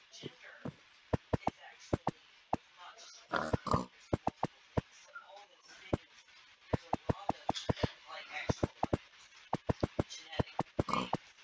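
A piglet grunts and oinks in short bursts, scattered among many sharp clicking knocks, fairly close and moderately loud.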